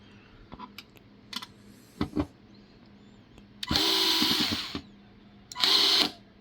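A Makita electric screwdriver drives screws into a PC board, with two short whirring bursts of about a second each, the motor stopping cleanly, between light clicks and handling taps.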